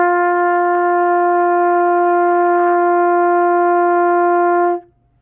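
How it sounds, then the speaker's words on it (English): A trumpet played by buzzing the lips through the whole instrument holds one steady, bright brass note, loud and close, for nearly five seconds before cutting off into quiet. "If I were to do that same buzzing through the entire trumpet,"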